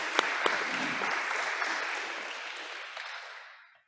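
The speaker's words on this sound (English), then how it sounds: "Give them a round of applause." A burst of applause from a crowd at a middle school sports awards ceremony, steady clapping that holds for a few seconds and then tapers off to silence.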